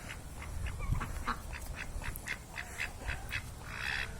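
A duck quacking in a yard among a rooster and turkey, a series of short nasal quacks at an even pace, fairly close over a low background.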